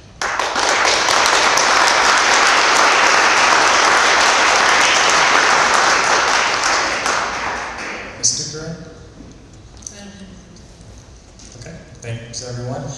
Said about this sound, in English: We'll give her another round of applause.